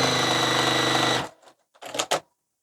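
Sewing machine stitching fabric pieces with right sides together, a loud close steady whirr for about a second that stops abruptly, followed by a few brief handling clicks and thumps.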